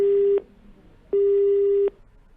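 Telephone busy tone after a dropped call: two steady electronic beeps, a short one and then a longer one, loud and clear with a gap of silence between them and no talk.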